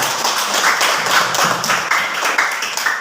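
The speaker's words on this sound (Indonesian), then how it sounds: "Berikan tepuk tangan" A classroom of students claps for a group that has just performed, a steady patter of many hands filling the room for about three seconds with little talk.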